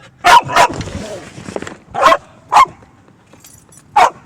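A dog barks loudly nearby in sharp, separate barks, a quick pair followed by three spaced-out ones, beside a broken-down MG TF.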